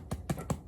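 Three soft, hollow knocks on the firm crusty surface of a freshly baked artisan bread loaf, evenly spaced and close.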